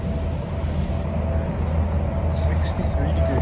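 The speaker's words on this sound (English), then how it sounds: "we can hear every car on Interstate 90" Steady, distant road traffic from Interstate 90 carrying across an abandoned campground at night, a continuous low rumble of passing cars with no distinct individual pass-bys.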